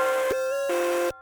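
A synth lead line for a new wave trap beat holds bright, sustained tones, shifting pitch twice in quick succession before cutting off abruptly, loud and alone without voices.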